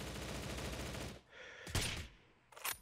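Shots from an M40A5 sniper rifle ring out in a video game, with a sustained burst of gunfire followed by two sharp, loud cracks after a brief pause.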